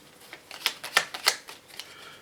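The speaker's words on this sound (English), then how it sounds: "go ahead and shuffle my discard because I have no deck to draw from" A discard pile of cards being shuffled by hand during a game of Barbarossa, a few quick soft riffling bursts close up, then trailing off into quiet.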